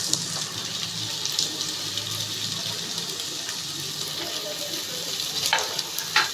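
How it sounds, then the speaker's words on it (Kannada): Onions tipped into a pan of green chillies frying for mote palya give a steady, moderately quiet sizzle with occasional stirring scrapes and small pops, mostly continuous with no talking. "ಇವಾಗ ಈರುಳ್ಳಿ ಹಾಕೋಣ."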